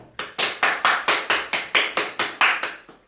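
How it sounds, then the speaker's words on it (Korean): After a student's presentation, a small audience claps in unison: about a dozen sharp, evenly spaced claps in a steady rhythm, close and clear, with no talking. "박수."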